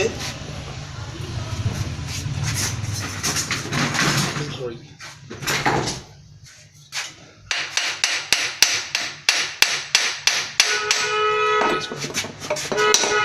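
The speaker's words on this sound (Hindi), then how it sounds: "थोड़ी सी अगर छेनी है तो उससे आप ठोकर लगा के ये खोल सकते हैं" A chisel knocks against the head of an electric donkey pump to loosen it, giving a series of sharp metallic taps in a steady rhythm in the second half, after earlier clattering and handling noise, with talk heard over it.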